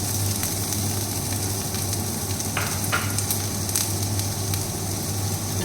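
Chopped onion sizzles in hot oil in a pan, a steady dense frying hiss with a few brief stirring scrapes, close and fairly loud, no talking.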